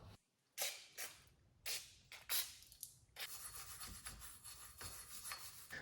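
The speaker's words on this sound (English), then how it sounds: "Use a wire brush just so we can make sure everything's clean to put the new rotor back on." Wire brush scrubbing the rear brake hub of a BRZ/FRS/86 before fitting a new rotor: several separate scratchy bursts, then continuous steady rasping close to the microphone, with no talking.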